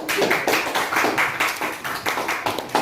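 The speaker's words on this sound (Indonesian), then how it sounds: "Beri tepuk tangan kepada kelompok" A classroom group claps steadily at close range, a continuous patter of many hands with no talk over it.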